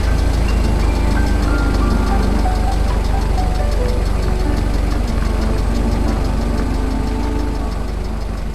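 A car engine runs steadily in a radio drama scene of a long drive over rough ravine country, with a constant rumbling, faintly knocking idle-like drone that holds the same level throughout.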